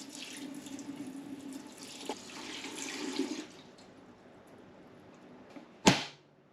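Roughly a litre of water poured straight into an open BLUETTI cooler, a steady trickling splash that swells midway, then ends with a sharp close knock.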